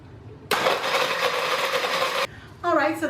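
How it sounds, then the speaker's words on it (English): A kitchen blender whirs loudly as it blends milk, coffee and ice for an iced coffee, running steadily for under two seconds before stopping, followed by a brief speaking voice. "So I'm just going to blend it up just a little bit in the blender."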